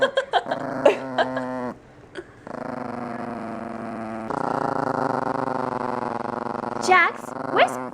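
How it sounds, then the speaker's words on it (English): A dog indoors at a house growls low and continuously, breaking into sharp barks and yips near the start and end, close and fairly loud with rising whine-like tones. "Jax, this is Katie's dog"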